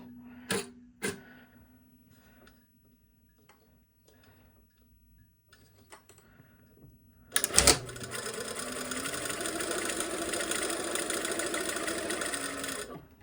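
After a few soft ticks and clicks, a sewing machine starts up and runs steadily at a small stitch length along a single welt pocket, stitching to the line's end with a back tack, close and continuous for several seconds.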